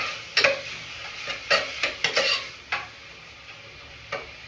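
Food being stirred in a pan, a series of close, sharp scraping and tapping strokes in an irregular rhythm over a faint background sizzle.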